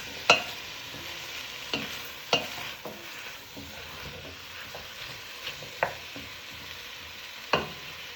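Chicken and peppers cook in a pan, a soft continuous sizzle punctuated by sharp spoon or spatula knocks against the pan every second or so, close by with no talking.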